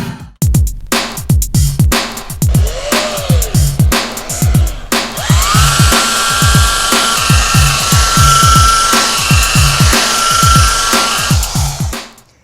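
A rotary polisher buffing automotive paint with a wet cutting compound at around 1500 to 1750 RPM, loud and close, with repeated rhythmic pulses as the machine is worked over the panel, then a steadier whirring whine.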